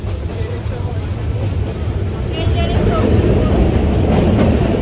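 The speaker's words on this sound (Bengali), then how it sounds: "আমি এখন ট্রেনে যাচ্ছি।" Interior of a moving passenger train on a trip to Sylhet, a continuous low rumble and rattling clatter that builds slightly in loudness, close and steady.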